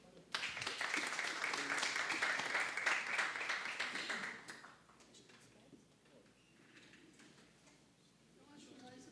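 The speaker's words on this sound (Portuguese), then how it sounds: "A todos, uma salva de palmas." An audience at an evening talk applauds, a burst of clapping lasting about four seconds that then drops away to quiet room noise with a few scattered taps.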